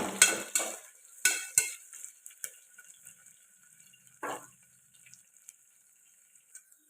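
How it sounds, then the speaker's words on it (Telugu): Curry leaves fry in a pan as a spoon stirs them, with a few loud scraping strokes at the start and then a faint, intermittent sizzle and occasional light taps. "కరివేపాకు ఒక రవ్వ కరివేపాకు వేసుకోవాలి బాగా కలుపుకొని ఇవి వేగాలి"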